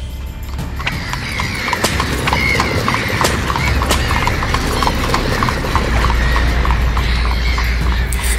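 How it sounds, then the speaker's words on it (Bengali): A horse-drawn carriage approaches with rhythmic clip-clop hoofbeats on hard ground, steady and fairly loud, with a horse whinnying briefly amid the trotting. "সব কিছুকে উপেক্ষা করে টকবক শব্দে গাড়ি এসে দাঁড়ালো জমিদার বাড়ির ফটকের সামনে।"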